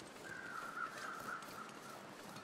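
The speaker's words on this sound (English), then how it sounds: "I can hear the crows." Crows caw faintly and far off in The Long Dark, a wintry survival video game, their thin, drawn-out calls running steadily across a soft background hiss.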